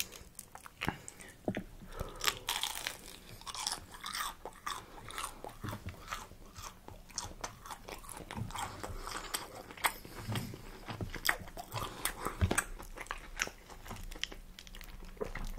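Close, repeated crunching bites and chewing of crispy fried chicken tenders, steady and irregular for a long stretch with no talking.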